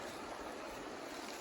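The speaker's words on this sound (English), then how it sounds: "Nice little creek right here." Small creek in open bottomland along the Appalachian Trail, a faint, steady broadband rush of flowing water with no voices.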